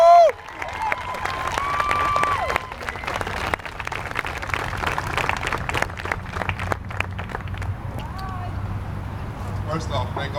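Audience applauding basketball player Jamal Crawford at his key to the city and court dedication, sustained clapping and cheering from a crowd with voices and whoops over it.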